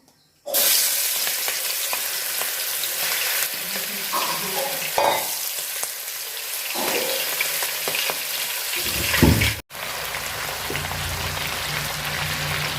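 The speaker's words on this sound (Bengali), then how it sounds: "হলুদ আর লবণ দিয়ে মাছ মাখায় নিছি তো এখন বাজা নিব মাছটি" Turmeric- and salt-coated shrimp fry in hot oil, giving a loud continuous crackling sizzle close by, briefly broken by a short pause near the end before resuming.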